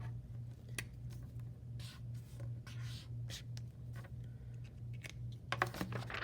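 Pencil scratching out the numbers 1 and 2 on a sheet of paper, short close scribbling strokes in bursts over a low steady electrical hum.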